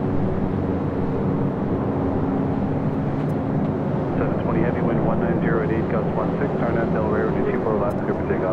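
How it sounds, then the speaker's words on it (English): A Delta 767-400ER jet heads for departure at LAX, its engines giving a steady, loud roar that fills the whole stretch, with a rising whine and voices talking over it. "Dear that Delta 767-400ER heading to 24 left."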